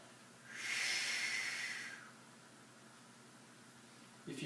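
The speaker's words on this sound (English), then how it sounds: "let's really work on that breathing." A single loud, hissing breath exhaled forcefully during a core workout, close to the microphone, lasting about a second and a half before fading into quiet room noise.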